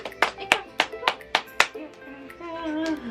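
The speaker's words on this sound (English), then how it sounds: "Clap, clap, clap, clap, Clap, clap, clap." A family claps for baby Zeke in a quick burst of about six sharp, close handclaps, followed by an excited voice carrying on.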